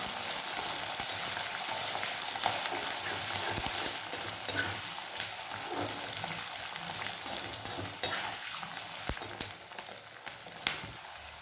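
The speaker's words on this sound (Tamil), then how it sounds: "பாதி பூண்டு வதங்கிருக்கு" A large batch of peeled garlic cloves fries in hot oil in a pan for a Tamil garlic and pepper kulambu, giving a loud, steady, close sizzle with occasional scrapes of stirring and no talking.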